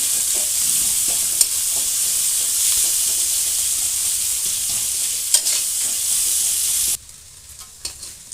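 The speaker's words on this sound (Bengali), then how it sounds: "এবার পেঁয়াজগুলো আমি লাল করে ভেজে নেব।" Onions fry in hot oil in a pan, a steady loud sizzle with faint stirring scrapes throughout, dropping quieter near the end.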